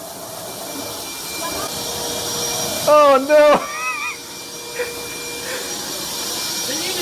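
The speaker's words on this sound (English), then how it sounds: "get in there with the vacuum!" A vacuum cleaner drones steadily in a video game, a continuous whooshing hum under excited shouting voices, with a short synthesized warble cutting through.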